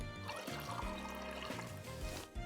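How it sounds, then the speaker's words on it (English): Water poured into a glass as a video game sound effect, a short trickling, gurgling fill over a soft tonal background that runs the whole time, quiet and close. "She pours herself a glass and downs it in one gulp."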